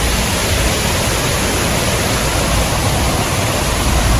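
Steady broadband rush of the Demala Ella waterfall in a Sri Lankan forest, a continuous loud roar of falling water with no pauses and no voices.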